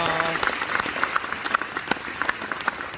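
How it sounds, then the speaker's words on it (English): A comic con audience claps for an actor, crisp scattered claps and a crowd murmur heard close, with some voices in the room beneath the clapping. "I don't know if it deserves any applause,"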